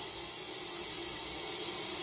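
Water from a toilet flush rushes through a residential sewer line, a steady, continuous hiss-like flow that holds at an even level without breaks.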